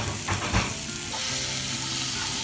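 Chopped tomatoes fry in a pan for a Kerala-style fish curry with coconut milk, giving a steady close sizzle with a couple of stirring scrapes near the start.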